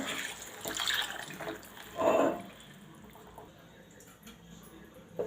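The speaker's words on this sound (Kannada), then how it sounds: "ಇವಾಗ ನೀರು ಆ್ಯಡ್ ಮಾಡ್ಕೊಳ್ಳೋಣ" Water poured into a pot of okra curry with fried masala, two short splashing bursts of pouring followed by quieter liquid sounds, close and fairly faint.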